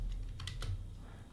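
A few quick keystrokes clatter on a computer keyboard, short and close, over a low hum.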